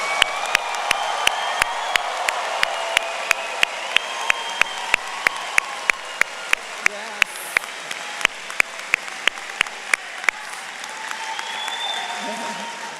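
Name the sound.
graduation audience applause and cheering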